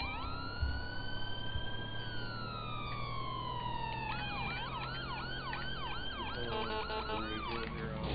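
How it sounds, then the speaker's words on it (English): Police car sirens in the GTA 5 video game with an LSPDFR mod, dual front sirens sounding a long rising and falling wail that switches to a fast warbling yelp, steady and moderately loud with no talk. "Also, we got dual sirens on the front."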